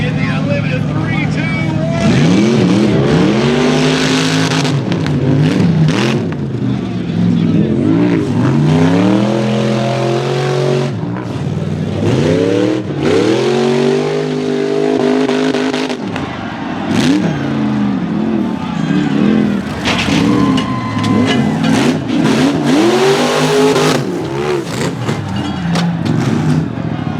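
UTVs and rock bouncers roar through a knockout race at Disney, Oklahoma, engines revving hard with rising and falling pitch sweeps as the machines pass, loud and continuous alongside crowd noise.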